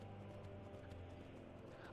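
Faint, steady clip-clop of a horse's hooves trotting in the Skyrim video game, a quick even rhythm heard quietly over a low background.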